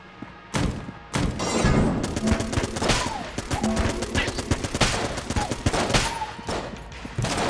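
Video game gunfire and grenades in Enter the Gungeon, with rapid bursts of shots and heavy explosive booms in dense, loud succession, plus brief quieter gaps.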